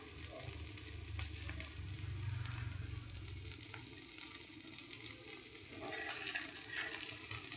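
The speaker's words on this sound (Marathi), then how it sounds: "ह्याला चारही बाजूने व्यवस्थित असे खरपूस भाजायचं आहे" Paneer tikka roasting in a pan gives a steady, soft sizzle and crackle that runs close and even throughout, with no talking.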